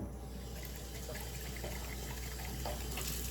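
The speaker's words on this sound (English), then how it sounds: "I'm gonna put my coconut milk inside" Coconut milk pours into a pot of boiling water on a home stove while making Jamaican pumpkin coconut dumplings. The liquid gives a faint, steady splashing pour over a low background hum.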